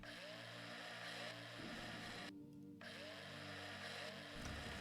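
A drill in the space survival game Breathedge whines as a steady mechanical buzz with shifting tones. It breaks off briefly once, then resumes, and plays at an even level with no talking over it.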